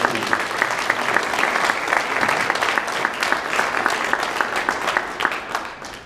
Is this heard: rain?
no